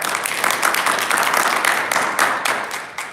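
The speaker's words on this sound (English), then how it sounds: "Give yourselves a rousing round of applause for making it out tonight." Audience at an evening civic panel event in South Fulton gives a sustained round of applause, dense overlapping claps filling the room steadily throughout, fairly loud and close.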